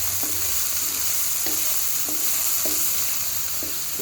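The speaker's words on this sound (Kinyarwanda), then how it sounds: "Hanyuma ntangire mbikaranga." Carrots and green beans fry in oil in a pan with a steady, close sizzle, broken by a few evenly spaced stirring scrapes.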